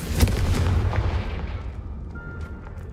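A Confringo blasting spell explodes in Hogwarts Legacy, a loud booming burst with a strong low rumble up front that fades into a decaying tail over a few seconds, with no talking.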